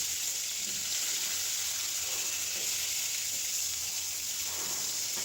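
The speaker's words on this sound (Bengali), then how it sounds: "মাছটা একটু ভাজি হোক" Silver carp frying in a pan gives off a constant hissing sizzle, steady and moderately close, with faint stirring movements and no voices.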